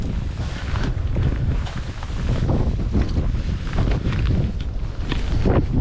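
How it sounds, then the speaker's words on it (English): Strong wind blowing across a lake, a loud constant roar buffeting the microphone with rumbling gusts throughout and no talk. "wind's blowing 20"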